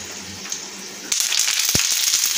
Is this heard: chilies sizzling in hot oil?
yes